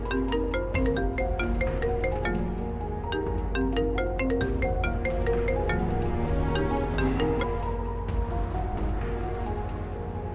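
A phone ringtone plays steadily for the length of an outgoing call, a repeating electronic melody of bright tones that is loud, close and uninterrupted, with no voices.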